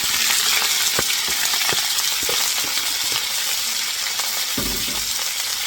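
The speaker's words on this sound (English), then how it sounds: "we're gonna be cooking the meat first" Meat sizzles and fries in a hot wok for Filipino ginisang munggo, a steady crackling hiss with a few clinks and scrapes of stirring and one louder burst near the end.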